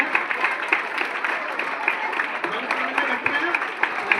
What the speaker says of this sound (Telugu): అద్భుతమైన ధ్యానానికి గట్టిగా క్లాప్ చేద్దాం